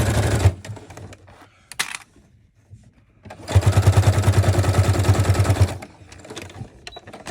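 Sewing machine running a straight basting stitch across fabric, a short burst then a longer steady rapid chattering run of needle strokes, close and loud, with quiet pauses between.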